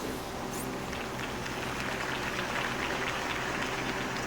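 Crowd applause at a campaign rally in the Batman Telltale video game, a steady, wash-like roar of many clapping hands, moderately loud and continuous with no distinct voices.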